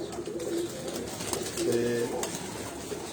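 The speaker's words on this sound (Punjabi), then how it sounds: "ਇਹ ਜਨਾਬ ਮੋਤੀਆਂ ਦਾ ਕਬੂਤਰ ਸਿਆਲਕੋਟੀ" A Sialkoti moti pigeon coos in short, low repeated calls close by, a couple of soft phrases rising over background chatter, with someone speaking briefly alongside.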